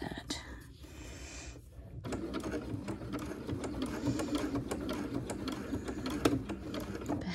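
A sewing machine stitches a crossbody bag with a steady, close mechanical whirr and rattle that runs continuously after a short pause and some handling noise at the start.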